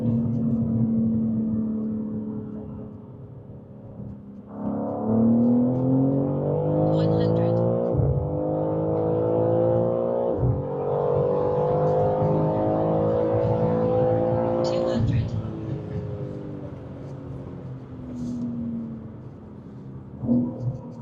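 A BMW M3 CS G80 accelerates hard through several gears, its engine note climbing and dropping sharply at each shift, loud and close from inside the cabin, with occasional voices over it.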